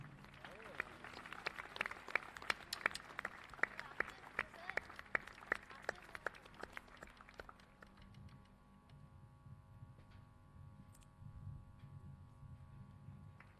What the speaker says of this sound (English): Keep the applause coming.